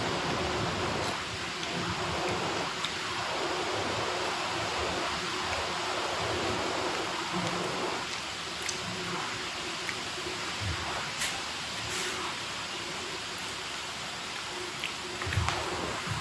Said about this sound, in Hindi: अब अगर ऐसे बारिश होती रही तो सब खराब हो जाएंगी